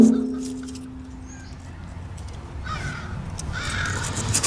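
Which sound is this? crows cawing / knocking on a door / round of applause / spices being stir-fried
crows cawing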